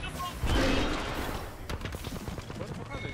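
Rapid gunfire in Apex Legends, with a burst of dense automatic shots from a minigun near the start, then scattered sharper shots continuing through a noisy firefight mix.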